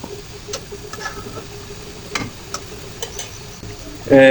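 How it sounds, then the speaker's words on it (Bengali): Mustard greens being stirred with taki fish in a frying pan, a soft scraping and faint sizzle with scattered light ticks of the spatula, a louder clatter near the end. "ভালো করে নেড়ে ছেড়ে দিতে হবে শাকগুলো"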